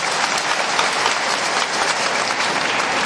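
A church congregation applauding, loud and close, a dense unbroken wash of clapping from many hands lasting throughout, with no voices on top.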